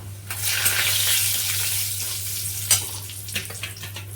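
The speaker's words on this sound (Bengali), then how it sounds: "তাই এর মধ্যে আমি ফোড়নে দিচ্ছি হচ্ছে গোটা জিরে, তেজপাতা" Whole cumin seeds and bay leaves hit hot oil left over from frying potol. They give a loud, steady crackling sizzle with a constant low hum underneath and a few sharper pops toward the end.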